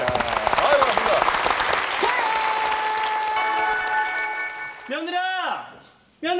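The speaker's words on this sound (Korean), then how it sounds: "박수 한번 보내주시죠" Studio audience clapping on a Korean TV comedy show, a burst of applause at the start that blends into bright show music and chimes, then fades out toward the end.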